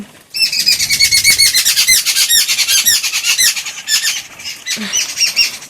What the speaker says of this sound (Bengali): বেড়াল দেখে পাখিরা ডাকছে